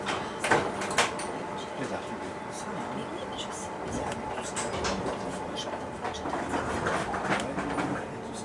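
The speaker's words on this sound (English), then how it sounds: "This is on a train leaving Salzburg in Austria." Interior of a train leaving Salzburg, Austria, a continuous close rumble of wheels and carriage with faint rattles and clicks throughout, steady and fairly loud.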